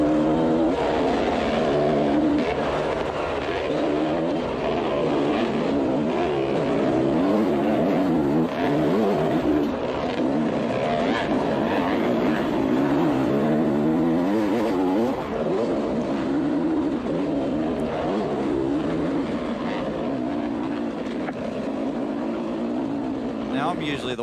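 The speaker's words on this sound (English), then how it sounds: "That's some good noise. That's Kai on his bike there." Kai's motorbike climbs a steep hill, its engine a continuous, loud, wavering drone that rises and falls in pitch. A voice talks over the engine for part of the time.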